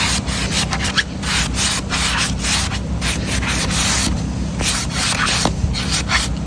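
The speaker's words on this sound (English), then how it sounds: "sometimes these sponges will clean it a little bit better than a wet rag" A sponge rubs over a wooden rocking chair outdoors in hot weather, making a steady, fairly loud scrubbing rasp. The strokes repeat in an uneven back-and-forth rhythm close by, with no talking.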